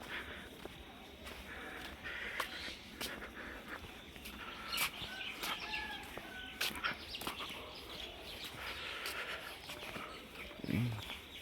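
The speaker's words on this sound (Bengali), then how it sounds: "মেঠো পথে পাখির কিচিরমিচির শব্দের" Birds chirp faintly and sporadically along a foggy village dirt path on a cold winter morning, brief scattered calls over a steady outdoor background.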